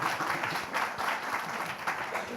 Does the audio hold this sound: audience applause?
yes